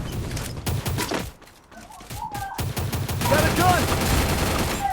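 Rapid bursts of gunfire in the mobile battle game Free Fire, loud crackling volleys that pause briefly and then resume, with excited voices talking over the shooting.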